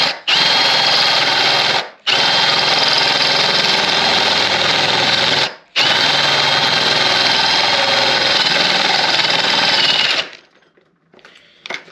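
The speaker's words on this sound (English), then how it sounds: "You can drill through it really easy." A drill bores slowly through a metal plate, a loud, steady high-pitched whine in three long bursts with brief pauses between, then cuts off into quiet.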